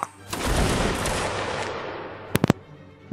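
A regiment's musket volley in Mount & Blade Napoleonic Wars during a fort defense: one loud ragged crash of many muskets fading into a long rumble, then a few scattered single shots close by.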